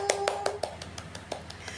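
Primary school pupils in a classroom clap their hands together, a quick run of about ten sharp, fairly faint claps in an uneven rhythm.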